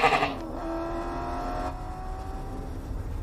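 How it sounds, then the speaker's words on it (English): A goat gives a single drawn-out bleat that starts loud and wavers, then fades beneath a steady background hum, with no talking. "a goat for the goats"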